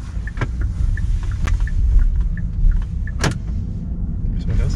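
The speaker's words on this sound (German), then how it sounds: "was eben geklackt hat, das waren die Tür zum Verschließen." Door locks on a Hyundai IONIQ Electric clunk shut in a short burst of sharp clicks, heard from inside the cabin over a steady low hum, with a fainter click a moment later.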